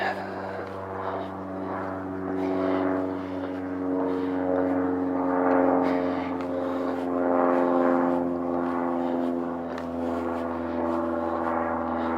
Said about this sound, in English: There's a plane going overhead, so that's what the noise is in the background.